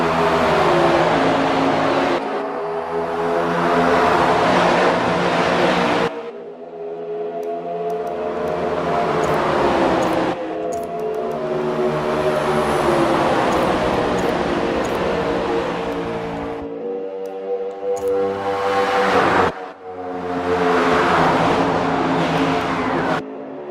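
Race cars roar away at a restart at Homestead-Miami, their engines loud and sustained as they accelerate and pass in waves, with revving swells and brief dips between them.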